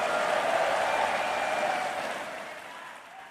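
A crowd at a speech applauds in a broad, even wash of clapping that holds steady and then gradually fades.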